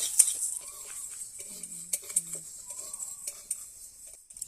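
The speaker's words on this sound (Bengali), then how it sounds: "আমি এখানে ডাল ভেজে নিচ্ছি প্রথমে" Mung lentils fry in oil in a pan with a soft, steady sizzling hiss, broken by light stirring scrapes and occasional utensil clinks against the pan.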